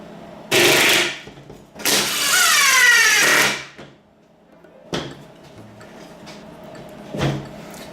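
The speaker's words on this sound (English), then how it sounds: "Go ahead and start your screws." A power driver sinks screws into a fountain frame in two loud bursts, the second longer, with a whining motor that rises in pitch, followed by quieter knocks and taps.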